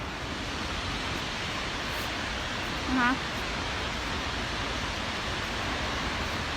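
Skógafoss waterfall in Iceland in February sends up a constant, broad roar of falling water that fills the whole stretch, and someone briefly speaks over it near the middle.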